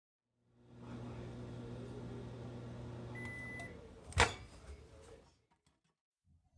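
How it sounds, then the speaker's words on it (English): A microwave oven hums steadily while cooking a potato, a low tonal drone that stops with a loud click or door clunk partway through, followed by faint rattles before silence. "it's now time to put the Murphy into the microwave"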